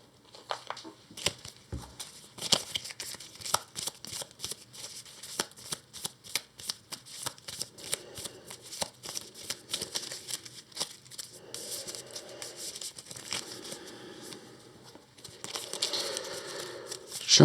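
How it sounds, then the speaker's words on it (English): A deck of cards for a solo tabletop game is shuffled close up, with rapid riffling and sliding bursts repeating throughout, alone without talk. "Shuffling a bit more."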